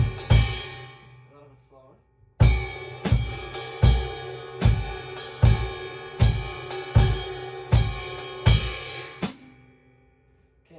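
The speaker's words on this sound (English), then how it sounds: "So with the bass drum," A jazz drum groove of bass drum, ride cymbal and hi-hat, with steady kick pulses under ringing ride strokes and the hi-hat on the offbeats. Played alone for about seven seconds after a brief spoken remark, then it stops abruptly.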